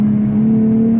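A 2024 Nissan Z Nismo engine holds a steady, loud drone at about 4,200 rpm in third gear, heard from inside the cabin as a constant hum without talk.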